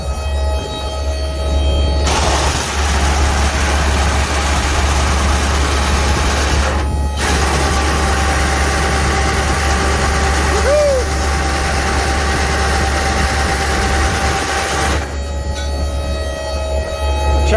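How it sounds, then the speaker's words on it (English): Constant heavy droning hum of a second fan still running on a seed drill, with engine rumble beneath and a few brief breaks in the steady roar, no talking. "so that second fan is still running"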